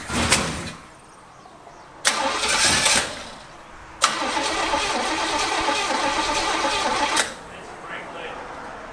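A forgotten muscle car, stored for 33 years, has its engine cranked by the starter in three loud, close bursts, a short one, another about a second long, then a longer three-second crank, with quiet gaps between and no catch into running.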